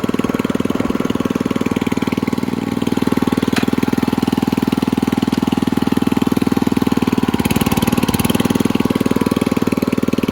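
An 87-year-old Ford car runs steadily in second gear, its engine giving a continuous low, even chugging drone close by, with no talk over it.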